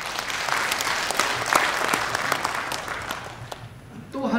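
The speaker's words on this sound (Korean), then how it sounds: "잘 될 것 같으면 박수 한번 쳐주세요." A seated audience claps in response to a county official's speech about promoting ginseng abroad, a short dense burst of applause that thins out toward the end.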